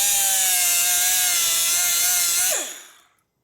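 Teeth of a Harley Sportster Ironhead kicker gear being ground, a loud steady high-pitched whine that holds for about two and a half seconds, then drops in pitch and fades out as the grinder spins down.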